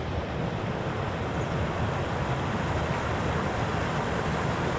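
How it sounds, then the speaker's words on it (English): Goose Creek, a pleasant little stream along a Colorado hiking trail, rushing steadily and close by as a continuous broadband wash with no pauses, without any talking. "The stream we're walking along is Goose Creek, for which the trail is named, and it's just a very pleasant little stream"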